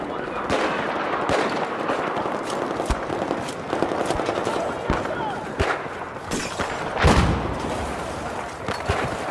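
Shotgun fire in Battlefield 4: a string of sharp, loud blasts at uneven intervals over constant battle noise, with one heavier boom near the end.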